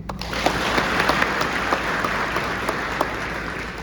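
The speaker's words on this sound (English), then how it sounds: "Let's have a round of applause for the team." A crowd at a National Guard Youth Challenge Academy graduation ceremony gives the academy team a sustained round of applause, dense even clapping with a few sharper claps standing out.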